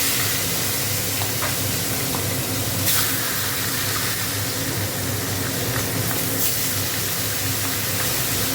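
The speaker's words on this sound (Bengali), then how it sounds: "মাছের মাথাটা ভেজে নিই, তেলটা গরম হোক।" Fish head, seasoned with salt and turmeric, frying in hot oil gives a steady, close, continuous sizzle and crackle that holds at an even level throughout, with no voices.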